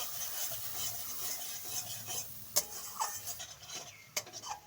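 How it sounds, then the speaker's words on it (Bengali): A spoon stirring mustard paste into a fried spice mix in a village kitchen pot, producing soft scraping and rubbing strokes with a few sharper scrapes, fairly faint and close. "সর্ষেটা দিয়ে আমি 2-1টা নাড়াচাড়া করে নিয়েছি"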